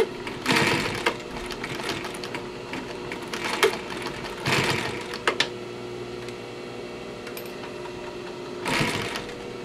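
A sewing machine stitches tent material for a medieval tent's spoke D rings in short, loud mechanical bursts separated by quiet pauses while the fabric is turned and backstitched.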